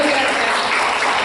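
An audience at an Indigenous community forum on road construction in Peru applauds for the speakers, a short burst of dense clapping that stays loud and even throughout.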